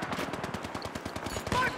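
Rapid automatic gunfire in Battlefield 3, a fast even burst of loud close shots lasting nearly two seconds, ending in a sharp louder blast.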